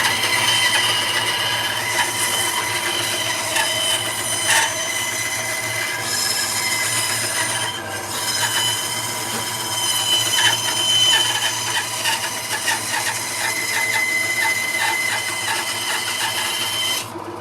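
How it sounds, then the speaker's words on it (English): An old bandsaw cuts through wood with a loud continuous mechanical whir and rattle, a steady drone with slight wavering as the blade works through the piece, close and unbroken. "the old bandsaw"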